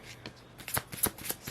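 Tarot cards are shuffled by hand in a quiet room, with a quick irregular series of crisp riffling flutters and soft slaps, close and clear, with no talking.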